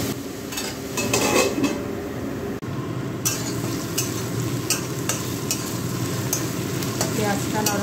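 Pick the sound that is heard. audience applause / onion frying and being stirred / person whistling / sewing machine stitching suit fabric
onion frying and being stirred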